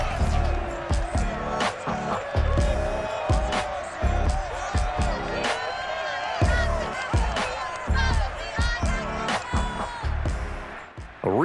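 A loud stadium crowd at Lumen Field in Seattle roars continuously in a Madden 22 Titans vs. Seahawks game, with a dense wall of cheering, sharp transient hits and commentary-like voices layered over the din.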